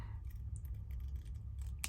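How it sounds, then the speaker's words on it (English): Scissors snip through fabric while cutting out a heart shape, a quick series of soft close clicks and rustles over a low background hum, with a brighter snip at the end. "Start there and just swing your fabric around. And you cut a shape like that."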